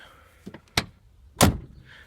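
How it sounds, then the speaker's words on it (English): Truck door on a Caterpillar 3208-powered truck swinging open and shut, giving a few sharp latch clicks followed by a louder, fuller slam, fairly close with no talk. "Doors open and close perfectly fine without hitting on the door stops"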